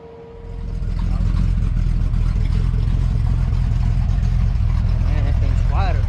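A 1966 Chevrolet C10 truck engine starts up and settles into a steady, loud, deep idle through a new exhaust system, recorded close by with a voice briefly heard near the end.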